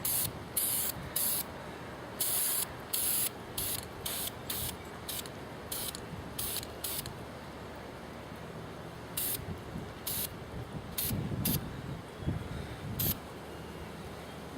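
A spray paint can sprays primer onto miniatures outdoors in the wind. A rapid series of short hissing bursts is followed by a pause, then more bursts over a low rumble of wind.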